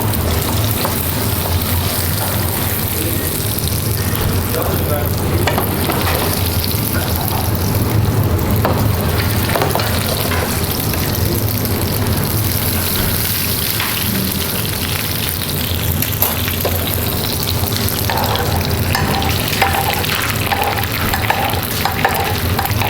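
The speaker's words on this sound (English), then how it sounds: "We put some honey, and we let it caramelized." Eel with honey caramelizing in a hot pan at a fine-dining restaurant kitchen, a continuous close sizzle and bubbling fry with small crackles and occasional stirring sounds throughout.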